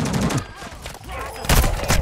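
Bursts of automatic gunfire from Call of Duty: Modern Warfare II, a rattling fusillade at the start and a loud close volley near the end, with a voice talking faintly underneath.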